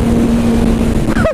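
A motorcycle engine revs as the throttle is opened, a loud steady buzzing drone that rises sharply in pitch at the very end.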